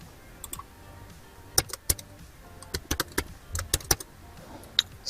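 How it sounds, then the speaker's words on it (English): Typing on a computer keyboard during coding, heard as sparse, irregular clusters of sharp key clicks over a quiet background, faint and close, with no speech. "Sorry about this terrible typing, might get confusing."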